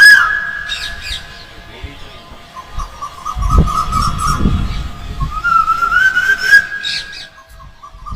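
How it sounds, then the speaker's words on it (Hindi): A koel calls repeatedly alongside a bamboo flute playing a sustained, wavering melody, both loud and close, with some background rustle and thumps partway through. "कोयल और बांसुरी वादक के बीच गजब की जुगलबंदी है।"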